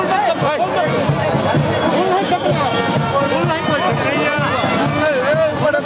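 A dense crowd at a kabaddi tournament in Aunta, Mokama, Bihar, fills the air with continuous loud babble and overlapping voices, a steady close-up din with no pauses.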